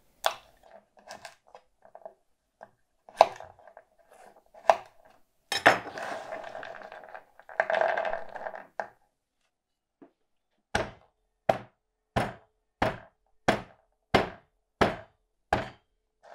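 Conkers are chopped and squashed, first with scattered knocks and a couple of longer crunching, grinding bursts, then a run of about ten evenly spaced sharp chopping thuds close by, with no voices.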